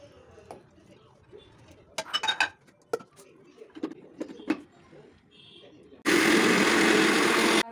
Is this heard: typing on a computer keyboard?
no